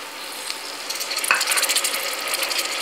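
Tomatoes being stirred into chole masala in a pan, a soft sizzle and scraping stir with a brief clink partway through, close and steady with no talk.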